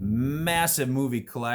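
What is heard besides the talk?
None of the usual background noises is heard.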